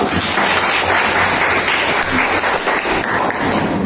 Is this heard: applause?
yes